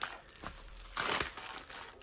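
Plastic parcel packaging from a lost-mail auction lot crinkles and rustles close by in quick handling bursts, louder in the middle, with no talking.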